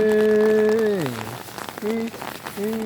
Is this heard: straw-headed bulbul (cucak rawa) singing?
no